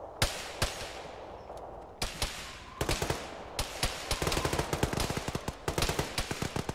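Full-auto gunfire in the military shooter Arma: a few scattered loud shots, then dense bursts of rapid automatic fire that grow thicker toward the end, close and sharp, with no talking.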